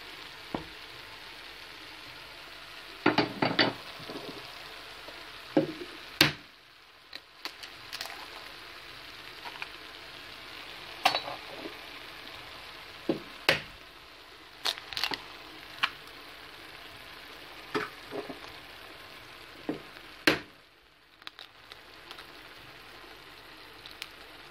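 Eggs cook in tomato sauce in a pan for a Moroccan egg-and-tomato dish. A soft, continuous simmering sizzle runs underneath, broken by scattered sharp clicks and taps of a utensil against the pan, with no talk.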